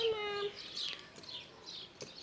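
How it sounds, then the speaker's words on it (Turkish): Several small birds chirp and tweet in a garden, short high calls scattered across a quiet background, fairly faint and somewhat distant. "Kuş sesleri."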